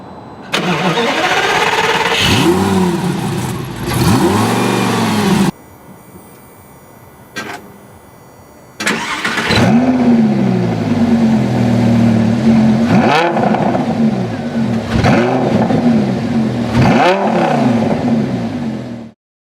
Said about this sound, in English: No video with a Jag F-Type R cannot include a rev battle